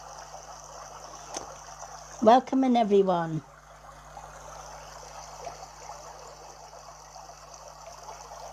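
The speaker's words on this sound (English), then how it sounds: "I just like to have a babbling brook in the background" A recording of a babbling brook plays quietly in the background of a live-streamed energy healing session, a soft continuous trickle with a short spoken greeting over it.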